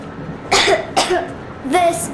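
A girl coughs in the video game Metro Exodus, three separate harsh cough bursts spaced apart, close and clear, with no other sounds around them.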